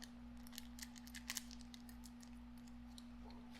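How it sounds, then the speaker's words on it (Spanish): Kitchen scissors cut through a plastic piping bag in a few quick, faint snips, set against a low steady electrical hum in a quiet room. "y ahí voy a cortar con mis tijeras"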